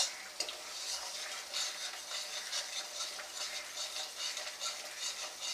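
Spice paste being stirred and fried in a pan for a mustard-poppy-seed pomfret fish curry, a steady close sizzle with scraping spoon strokes, one sharp knock near the start, no voices.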